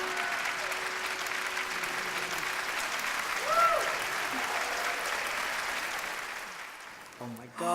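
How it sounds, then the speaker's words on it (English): Audience applause at an anniversary gala, a broad, even wash of clapping that swells briefly, then fades as voices take over near the end. "they applauded"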